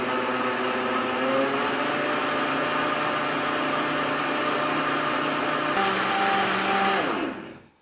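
A blender purées lobster bisque, a loud steady whirring motor hum held for about seven seconds, shifting pitch once near the end before spinning down and stopping.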